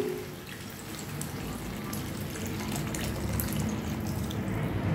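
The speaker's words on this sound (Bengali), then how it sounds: "এবার এতে আমি জল দিয়ে দিচ্ছি" Water is poured into a pan of bottle gourd curry cooked with fish heads, a soft, continuous splashing and trickling that stays fairly faint and steady throughout.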